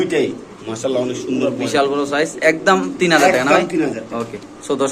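Mundian pigeons coo close by on a pigeon farm, their low throaty calls mixed in with a person talking loudly over them.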